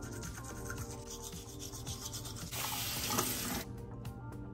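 Running water at a bathroom sink while a face is rinsed, a steady close splashing and rubbing wash that swells louder near the end before easing off.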